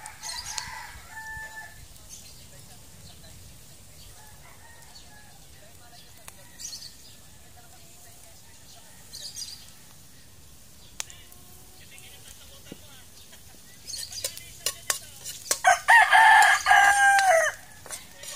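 A rooster crows in a rural yard, with two harmonic calls near the start and louder, closer crowing with clucking toward the end, over quiet background and some faint voices.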